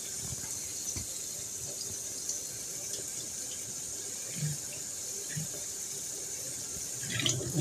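Tap water running steadily into a sink while small sprouting seeds are rinsed, a soft continuous close trickle with a few faint splashes and clinks and no speech.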